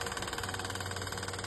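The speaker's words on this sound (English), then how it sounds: "this loud fan that sound like a tractor trailer" A loud fan in an Airbnb room in Mexico drones steadily, with a low hum and broad whooshing that sound almost like an idling truck engine; it runs close and continuous with no talking.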